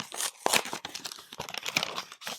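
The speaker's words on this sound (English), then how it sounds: "Let's open up the envelope." A paper envelope holding a check is torn and crinkled open, a busy run of close, crisp ripping and rustling bursts with no talk over it.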